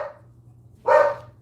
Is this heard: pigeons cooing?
no